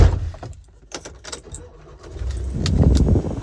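A car engine turns over and starts, its low rumble building toward the end, with keys jangling close by just before.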